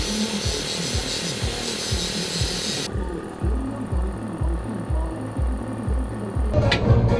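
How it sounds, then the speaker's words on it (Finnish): An angle grinder cuts metal off a drift car, giving a steady rhythmic series of near, loud bursts that continue throughout with a brief sharper clatter at the end. "Nyt me rälläköidään tää tosta pois."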